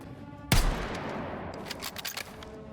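A sniper rifle fires at the firing range in Battlefield 6, one loud, booming shot with a rolling echo, followed by a few fainter, quick reports as the tail fades.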